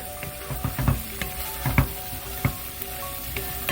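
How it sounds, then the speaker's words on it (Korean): Seaweed stir-fries with beef in sesame oil for a perilla seed beef seaweed soup, giving a close, steady sizzle broken by repeated scraping clunks of a spatula against the pot. "자 이렇게 또 미역을 넣어서 볶습니다"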